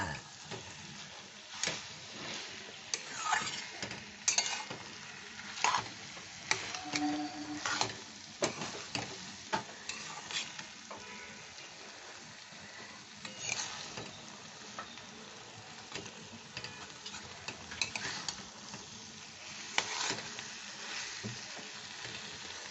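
Prawn chochchori sizzles in a pan with a soft, constant crackle while a spoon stirs it, making repeated scraping clicks at an unhurried pace.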